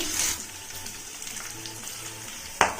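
Garlic, green and dried chillies and chana dal frying in hot oil, a steady soft sizzle with a light clatter near the start and a sharp clink near the end.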